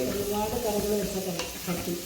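Kerala onion theeyal curry bubbles and is stirred in a well-used clay pot, a close, continuous sizzle and soft scraping heard under faint background music.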